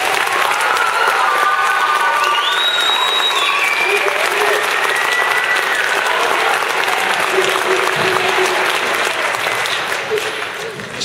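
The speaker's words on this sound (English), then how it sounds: "how about another round of applause for the strings and the choir?" Audience at a sixth grade band concert applauding the strings and choir: loud, sustained clapping from a full room, with some voices and whoops mixed in, tapering slightly at the end.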